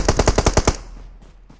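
Rapid burst of about seven loud automatic gunshots in the BGIS battle royale mobile game, evenly spaced and close, then two fainter distant shots as the sound tails off, with no talking.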